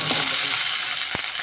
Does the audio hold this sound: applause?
no